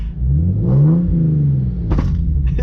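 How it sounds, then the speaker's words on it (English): Genesis Coupe 3.8 V6 with a Solo Performance exhaust revs loudly close by, the engine note rising and falling before two sharp exhaust pops crack out near the end. "It just does 2 fat pops every time"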